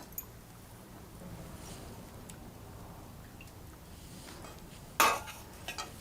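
Ridge gourd curry is ladled onto a plate at home over a faint, steady background, with a soft scrape and one sharp clink of utensil on plate near the end.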